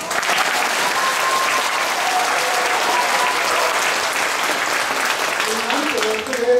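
An audience at a Chinese New Year concert of amateur, elderly musicians claps loudly. The dense applause is sustained and close and fills the whole stretch without a break.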